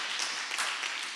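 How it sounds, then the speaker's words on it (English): An audience at a school curriculum launch event claps in a steady, even wash of applause, fairly loud and sustained with no pause. "can you please join me in giving Nisha one more round of applause"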